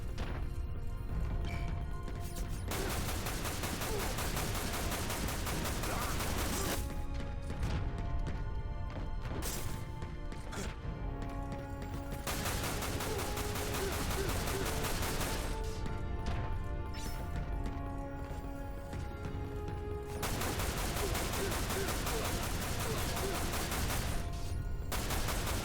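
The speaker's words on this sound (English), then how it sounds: "Don't mind me, just shooting." Sustained rapid gunfire from the video game Dirge of Cerberus, dense loud bursts of shots running almost continuously with brief lulls between volleys.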